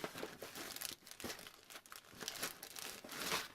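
Plastic bags crinkle and rustle as Ziploc baggies packed inside a larger bag are handled, a close, quiet run of crackly crumpling bursts with no talk.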